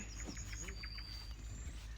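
Small birds chirp faintly in the distance over a steady low outdoor rumble, with short repeated tweets scattered through the moment.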